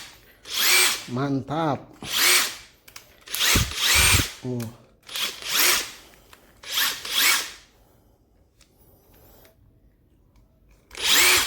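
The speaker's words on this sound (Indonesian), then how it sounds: "Impactnya termasuk jumbo ya guys. Kita tes dulu coba nih ya." Repeated bursts of a Makita TW007G cordless impact wrench whirring at full speed, each lasting about a second, with short pauses and a brief spoken word between runs.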